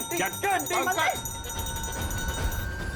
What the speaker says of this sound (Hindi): घंटी।